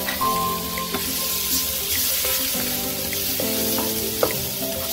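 Tomatoes dropped into a hot pan of frying sardines, squash and bell peppers bring a steady, close sizzle with crackling spatter and a few stirring scrapes throughout.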